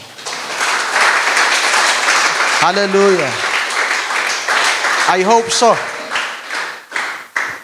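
A church congregation at a worship service breaks into applause, a dense clapping wash heard under a preacher's amplified voice and sung exclamations of praise.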